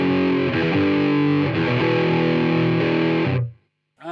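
An electric guitar driven through a NuX Steel Singer pedal at full gain roars with thick, distorted hard-rock chords, sustained and loud, then cuts abruptly to silence before a brief new attack.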